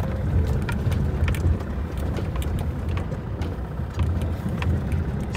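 A vehicle rolling slowly onto a rough, freshly made driveway at an opal claim, a steady low engine rumble with crunching and bumping over uneven ground, no talking.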